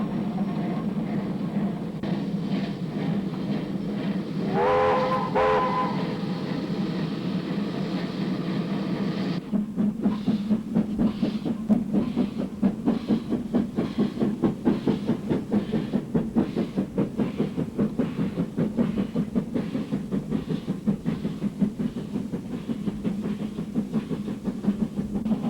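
A steam locomotive works up the 1 in 50 grade of a spiral line in New Zealand. A steady mechanical rumble builds into a rapid, rhythmic chuffing beat that carries on for a long stretch.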